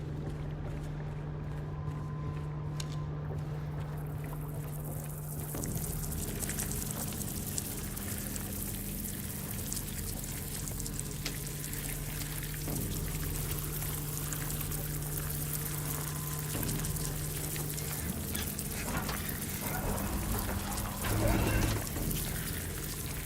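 Water pours and hisses steadily in the video game That Town, forming a broad, continuous wash with a low hum beneath it and a brief louder splash near the end.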